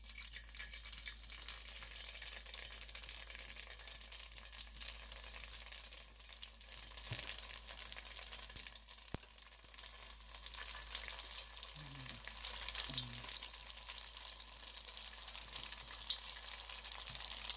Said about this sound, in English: we're gonna start frying them